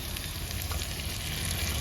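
Green chilies and tomato frying in a pan, a steady close sizzle with faint stirring throughout, no voices.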